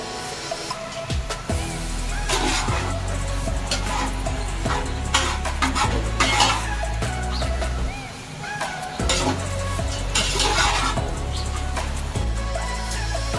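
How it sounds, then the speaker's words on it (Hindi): Vegetables sautéing in hot oil in a pan for chicken Manchurian, a steady close sizzle with repeated scraping stir strokes throughout, with no talk. "सब्जियां सारी हो गई हैं सोटे उसके अंदर ऑयल के अंदर"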